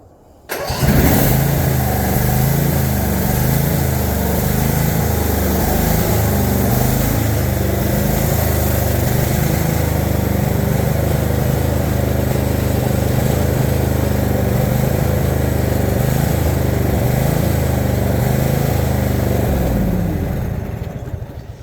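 A zero turn mower engine starts after a short pause and then runs steadily and loudly, with an uneven, missing beat in its idle, close by and alone until it cuts off near the end.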